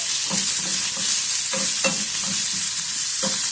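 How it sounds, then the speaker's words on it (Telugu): Onions and carrots sauté together in a pan on a low flame for oats upma, giving a dense, continuous sizzle broken by regular scraping strokes of a spoon stirring them, close and loud. "కొంచెము క్యారెట్ కూడా ఇప్పుడే వేసేసుకుంటేనా ఉల్లిగడ్డతో పాటు బాగా మగ్గిపోతాయి."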